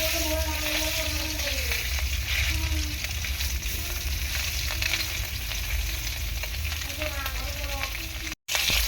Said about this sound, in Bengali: মাছটা ভাজা হয়ে গিয়েছে, এখন আমি তুলে নিচ্ছি।